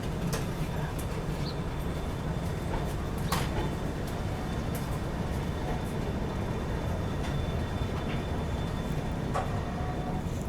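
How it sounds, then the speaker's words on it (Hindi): Agartala–Mumbai AC Express pulling out of Agartala railway station, a steady rolling rumble of the train with scattered metallic clanks and squeals over the continuous low noise of the moving carriages. "एकदम ऑन टाइम ट्रेन निकल रही है अपनी अगरतला रेलवे स्टेशन से"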